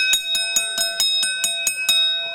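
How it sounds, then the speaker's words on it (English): A bell is rung rapidly at a wrestling event, about nine bright metallic clangs in quick, even succession, loud and ringing with sustained overtones. "Stevie Aaron, you can ring that bell all day long, my friend."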